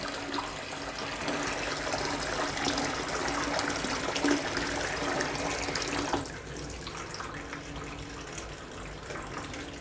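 Water runs steadily from both the acidic and alkaline outlet pipes of a Kangen water ionizer during its cleaning cycle, a continuous close gushing that drops to a softer trickle near the end.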